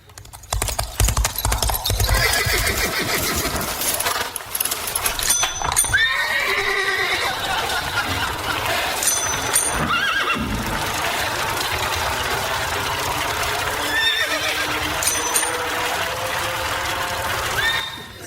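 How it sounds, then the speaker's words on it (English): A simulated horse riding a bicycle: steady hoof clip-clop mixed with mechanical clicking and ratcheting, like a bicycle freewheel, with occasional whinnies and neighs over a continuous background. "what it would sound like if a horse were on a bike"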